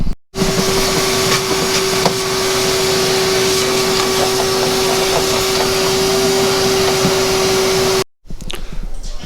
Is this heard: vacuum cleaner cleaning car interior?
yes